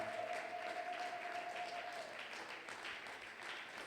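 Church congregation clapping steadily at a Sunday worship service, a dense, continuous wash of applause with a sustained tone ringing faintly over it and no speech.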